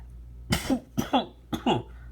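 Three separate coughs, close and fairly loud, spaced evenly about half a second apart, each a sharp burst with a short rasping tail.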